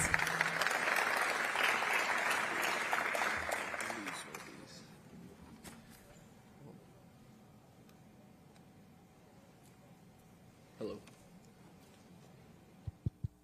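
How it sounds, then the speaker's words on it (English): An audience at a city summer internship closing ceremony applauds for about four seconds, a dense clapping wash that then drops to quiet room tone with faint shuffling and a few isolated knocks near the end. "if y'all will give him a round of applause."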